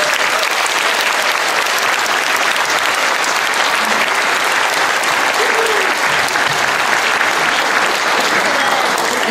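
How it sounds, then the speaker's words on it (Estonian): Loud, sustained applause from a crowd at a kindergarten spring party, an unbroken wash of many clapping hands close by, holding an even intensity from start to finish. "Suur aplaus!"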